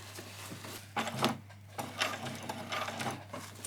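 A sewing machine stitches fairy wings, running in short uneven bursts of mechanical whirring and clatter over a steady low hum, including a few back stitches, with no talking.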